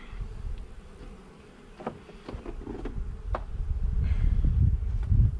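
Honeybees buzz around an open hive box while frames are pulled for a five-frame nuc, a steady low drone with a few sharper passes of bees flying close, the hum growing louder toward the end.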